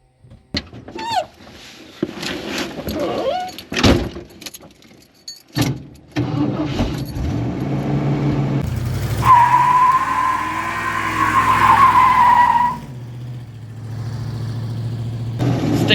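A 1973 Ford Mustang engine idles and revs hard, then its tires squeal loudly through a sustained burnout lasting several seconds before the engine settles back to a steady idle.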